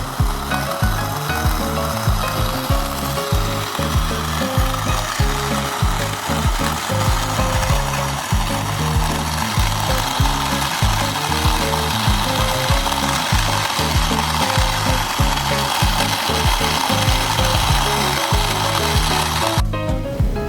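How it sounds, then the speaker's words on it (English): A KitchenAid grain mill grinds soaked, dehydrated grains into flour with a loud, steady mechanical whir and gritty rasp that runs without a break for about twenty seconds before cutting out at the end. "it did take a little while with the KitchenAid, but I still love that I have the option to mill these grains"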